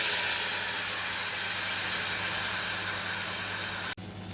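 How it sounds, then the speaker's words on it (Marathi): Spice paste hits hot ghee while making no-onion, no-garlic paneer makhanwala, giving a loud, even sizzle that hisses steadily and then cuts off abruptly just before the end. "तूप तापलेलं आहे आपण ह्याच्यात पेस्ट ॲड करूया"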